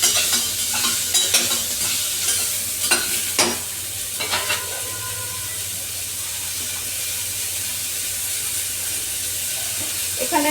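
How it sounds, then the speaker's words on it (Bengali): Onion, garlic and ginger sizzle steadily in a hot pan, with a few sharp scrapes and clinks from stirring early on before the frying settles into an even hiss. "এটা একটু সামান্য নাড়াচাড়া করবো।"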